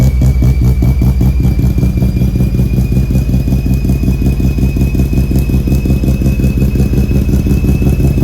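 A loud bridgeport rotary engine in a Mazda RX-7 idles with a rough, throbbing exhaust pulse, steady and close throughout, with a thin whine running above it.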